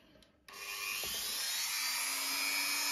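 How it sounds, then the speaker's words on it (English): A small Dremel rotary tool cuts into the door lock of a 1958 Cadillac Eldorado Brougham, starting after a brief pause with a steady, high-pitched whine and grinding hiss that holds for nearly three seconds, close and loud. "I take my small Dremel"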